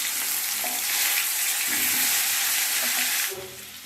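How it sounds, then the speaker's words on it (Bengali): Potatoes fry in hot oil, a loud, steady sizzle with occasional stirring clinks, holding constant before softening slightly near the end. "আলুগুলো ভেজে নিচ্ছি"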